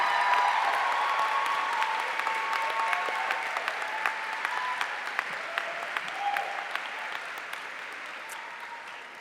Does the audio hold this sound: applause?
yes